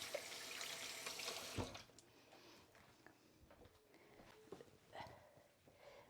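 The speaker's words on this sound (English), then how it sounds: "I'm just going to wash my hands again. Just give them a quick rinse." A kitchen tap runs at a sink as hands are rinsed, a steady close water rush for under two seconds, then fainter dripping and handling sounds with a dog sniffing nearby.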